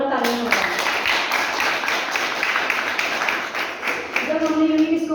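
Loud audience applause for an honoree at a Unique Scope leaders' event, a dense steady wash of clapping lasting throughout, with a voice briefly audible near the start and end.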